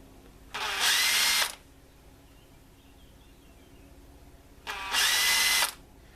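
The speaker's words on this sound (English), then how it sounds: "drill a couple of pilot holes" A power drill whirs through two short bursts boring pilot holes in wood for a wooden pattress, each about a second long, close and loud over a quiet room hiss.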